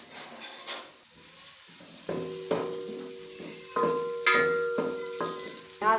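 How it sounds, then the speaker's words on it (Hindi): Onions frying in hot oil in a pan while cooking chole, a steady close sizzle with repeated stirring scrapes and clinks of a spoon against the pot. "मैंने तेल डाल दिया। अभी इसमें ये प्याज डाल दूंगी।"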